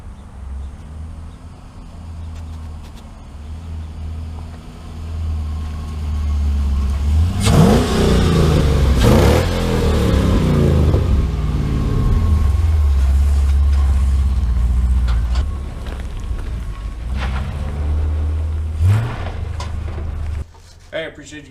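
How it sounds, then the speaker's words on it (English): A 1965 Chevrolet C10 pickup with an LS engine on its first drive, its engine idling with a low, steady drone, then revving hard in loud surges before dropping back, while people talk over it. "we are on a maiden voyage for Ben's 65 C10."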